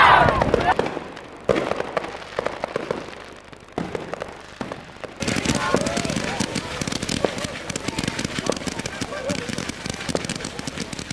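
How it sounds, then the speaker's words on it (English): A midnight New Year fireworks display crackles and bangs at length, with dense popping bursts that grow fuller and denser toward the end, while voices and crowd sound mix in underneath. "The year ended with Countdown to Midnight and the fireworks display."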